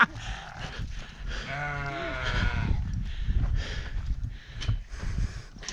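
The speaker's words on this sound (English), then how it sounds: "This is the most effective way to lead a sheep, unless you got a sheep halter." A sheep is led along by hand, bleating in a long wavering cry amid shuffling and scuffing close by, with a little background voice.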